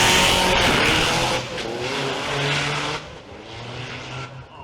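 Isuzu turbo diesel drag race car at the Isuzu Race Spirit 2024 final round in Thailand roars hard as it accelerates, a loud engine note with rising pitch that fades as the car pulls away.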